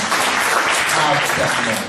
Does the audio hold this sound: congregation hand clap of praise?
yes